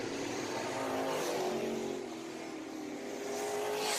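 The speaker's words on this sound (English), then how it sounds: "And Leindecker making quick laps here around the Speedway" A race car at Deep South Speedway roars continuously around the oval on a quick lap, its engine note steady and loud with a rising and falling pitch as it passes, no talk over it.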